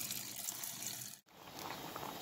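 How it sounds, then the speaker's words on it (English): Fresh water poured into a pot of stew peas with pigs tails, a steady close rushing pour that cuts out abruptly for a moment and then resumes. "And then we're going to add back some more water to it."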